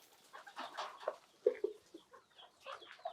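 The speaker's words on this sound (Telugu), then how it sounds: "ఇప్పుడు ఇది మట్టే కదా మేడం, చూడండి ఈ మట్టి వేసినా కోళ్ళు వస్తాయి." Hens on a poultry farm cluck softly at close range, a loose run of short, scattered calls in an otherwise quiet setting.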